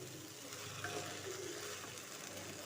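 Hilsa fish head with taro stems sizzling steadily in a pan while being stirred, a soft, even frying hiss throughout with faint scraping, no voices.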